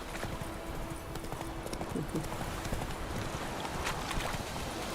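Hooves of Roach, Geralt's horse in The Witcher 3, clopping in a steady rhythm close by, with a brief whinny-like tone and low ambient game sound underneath.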